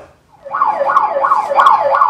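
An ambulance siren, in footage of an ambulance being stopped by police, sets in after a short quiet moment and wails loudly in fast, regular rising-and-falling sweeps, with no voices over it.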